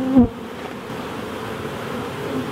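Honey bees buzz steadily around newly installed nucs at the start of a beekeeping season, a dense droning hum close by with a single bee passing louder near the start.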